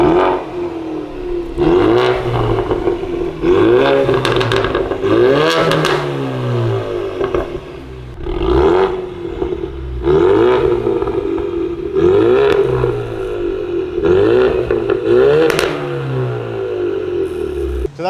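Ecoboost Mustang with a Borla ATAC full catback exhaust and performance mufflers revving in a series of loud, sharp throttle blips, each rising then falling off, recorded close with no talking.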